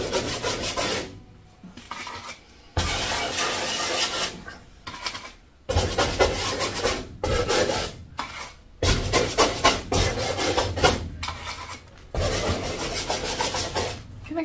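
A dish scrubber rubs and scrapes acrylic paint across a mixed media surface in repeated rasping strokes, each burst lasting a second or two with short pauses between, close and fairly loud with no talking.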